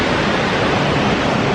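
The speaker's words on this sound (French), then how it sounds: "Voilà la cascade." Tamsé waterfall in Nepal roars at night, a loud, close, unbroken wash of white noise with no other sounds.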